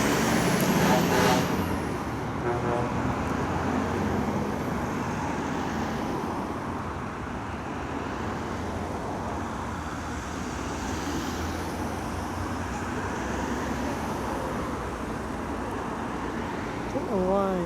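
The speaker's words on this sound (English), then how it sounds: "The trucks have started taking to the outside lane and the cars the inside." Trucks departing Truckfest along a busy road, a steady wash of heavy engine rumble and tyre roar passing continuously, with a brief horn-like tone at the start and people talking faintly nearby.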